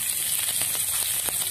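Chopped green chilies sizzle in hot ghee with cumin seeds, a soft, steady frying hiss with faint crackles, heard close and alone.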